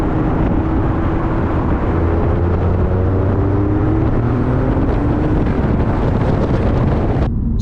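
An Alfa Romeo Giulia Quadrifoglio accelerating hard past a Mazda MX-5, heard from inside as a loud, continuous engine roar with rising gear pitches under heavy wind and road noise, cutting off abruptly at the end.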